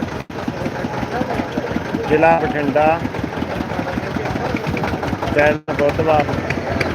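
Tractor engines idle with a steady low rumble and chug in the background at a tractor market, while someone talks over them.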